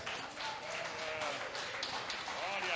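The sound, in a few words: church congregation applauding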